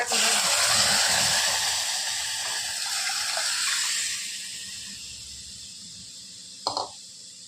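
Water is poured into a pot of cooking moong dal, making a steady, close gushing hiss for several seconds that fades into quiet simmering, followed by one brief clink near the end.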